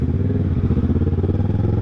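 Kawasaki Ninja 650 motorcycle fitted with a Villain exhaust pipe, loud close-up engine burble with a fast, pulsing throb as it revs, heard alone without talk.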